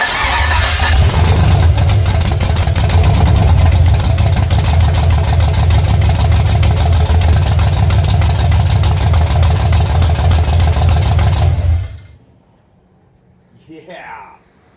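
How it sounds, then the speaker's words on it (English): A 5.3 V8 engine fires up and runs loudly and close for about twelve seconds with a rough, rumbling drone, then cuts off abruptly, leaving near silence with a faint sound at the end. "I want it to run, have oil pressure, and not make any weird noises."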